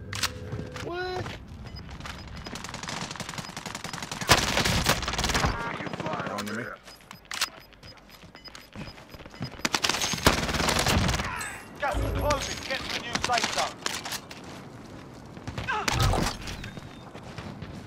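Bursts of MAC-10 submachine gun fire in a shooter video game, rapid and loud, broken up by mechanical clicks and footsteps, with people talking in between.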